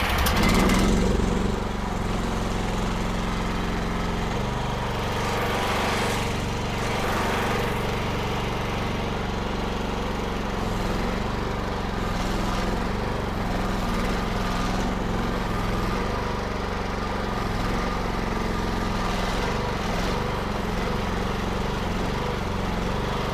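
Gasoline engine of a Huayee HY680C mini skid steer labors under load while trying to lift a pallet of sod, a steady, loud droning hum running unbroken throughout with no talking.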